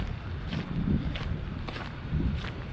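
Moderate wind of about 7-8 mph gusting across an open farm near greenhouses, a low rumbling buffet against the microphone that swells and eases in waves.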